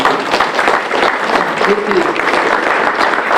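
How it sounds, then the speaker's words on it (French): Spectators at a horse-racing meeting applaud the volunteers, a loud, lively patter of many hands kept up throughout, with a voice briefly audible through the clapping. "je voudrais qu'on les applaudisse"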